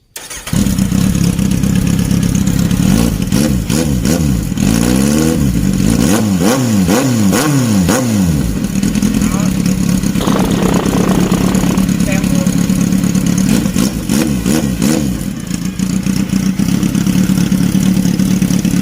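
A Kawasaki Z800 motorcycle with a side-exit exhaust idles loudly up close, then revs up and down repeatedly with a throaty exhaust rumble, while a voice talks over it.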